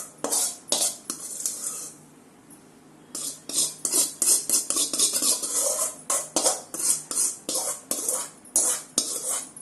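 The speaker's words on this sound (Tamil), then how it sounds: "இந்த ரவையை இப்போ வறுத்தாச்சு இல்லையா, அதை ஒரு தனியாக ஒரு பாத்திரத்தில்" Roasted semolina (rava) being transferred into a separate vessel while making a rava jaggery sweet: rapid metallic scraping and clinking of a spoon against a pan, in quick uneven bursts with a short pause.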